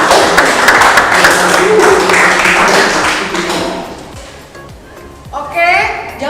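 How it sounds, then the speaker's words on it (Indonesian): Students in a classroom give a classmate a round of applause, with brisk, close clapping that fades after a few seconds before a voice begins speaking. "kita beri tepuk tangan untuk Nurhala"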